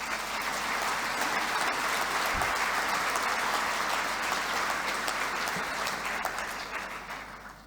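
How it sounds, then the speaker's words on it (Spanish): Sustained applause from an audience at a CAINCO board inauguration ceremony, many hands clapping in a thick steady wash that fades slightly at the end. "Quiero pedir un aplauso para todos ustedes,"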